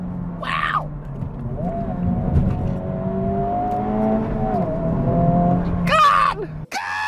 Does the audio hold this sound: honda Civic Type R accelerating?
yes